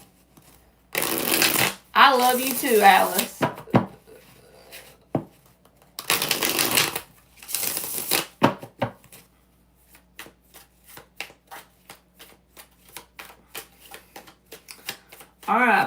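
A stiff tarot card deck being shuffled in close-up, with brisk riffling bursts in several runs, then a string of light, rapid card taps and flicks, with someone talking in between.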